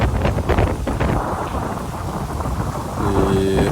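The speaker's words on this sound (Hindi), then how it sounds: "आंधी तूफ़ान मूसलाधार बारिश" Thunderstorm at night with heavy downpour and gusting wind, a loud crack of thunder at the start followed by steady roaring rain and wind noise.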